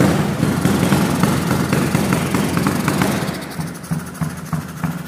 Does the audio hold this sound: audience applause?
no